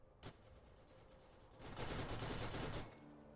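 A turret in the video game Borderlands fires continuously, a faint single shot followed by a sustained rattling burst of rapid fire lasting about a second.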